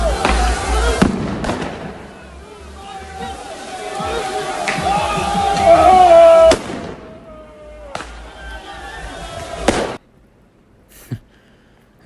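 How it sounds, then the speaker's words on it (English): Firecrackers set off by protesters in a city street at night, sparking fires: dense rapid crackling and sharp bangs over a loud crowd murmur, building up and then cutting off, with a few isolated pops afterward. "a video shared on social media shows protesters lighting firecrackers that sparked multiple"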